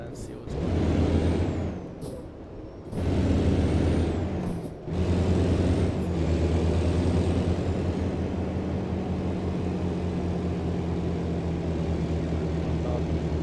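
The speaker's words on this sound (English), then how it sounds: "we'll put on the old Jake brake and see how she sounds" Truck Jake brake in American Truck Simulator, a loud low rumbling engine-brake roar in a few surges with a brief hiss between, then a steady droning engine, close.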